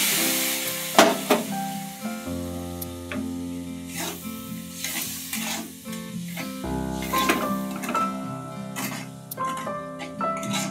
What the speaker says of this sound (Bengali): এখন দিয়ে দেবো একটু পরিমাণ মতো জল, দিয়ে কষিয়ে নেব